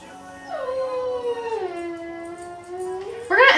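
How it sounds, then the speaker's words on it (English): A dog whines and howls in a long, rising-then-falling wail at close range, ending in higher yelping whimpers, with no talk over it. "my dog is being very stubborn and loud and whiny"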